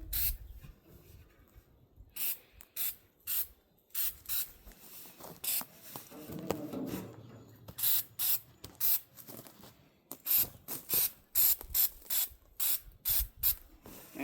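Aerosol sealant sprayed from a can onto welded seams of a metal container being made into a cheap root cellar: many short sharp hissing bursts in uneven rhythm, close and loud, with a brief scraping, rattling stretch midway.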